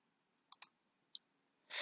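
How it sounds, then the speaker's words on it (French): A computer mouse button clicks three times, two quick clicks followed by a single one, sharp and close in a quiet room, ending with a short burst of noise. "je clique sur OK et je clique sur suivant"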